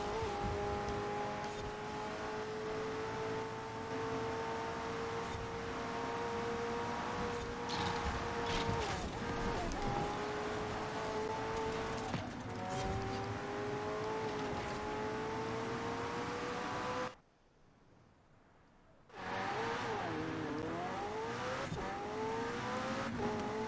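A green Lamborghini Aventador race car in a racing video game drones with a steady engine whine that rises and falls with shifts, running continuously before cutting out briefly and returning.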